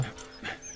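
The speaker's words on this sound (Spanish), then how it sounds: "El perrito." A dog in the video game Valiant Hearts: The Great War gives a brief, close whimper or yip, a single short sound over steady soft game ambience, with no speech.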